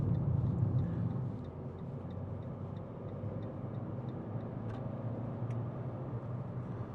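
A 2017 Fiat 500 1.2 Lounge heard from inside while driving, a steady engine hum with road rumble, louder at the start and then holding level.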